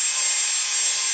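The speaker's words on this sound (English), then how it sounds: "it's just a wire brush with drill" A drill fitted with a wire brush scrubbing rust off an iron skillet, a steady loud high-pitched whirring scrape held without a break, with no talking.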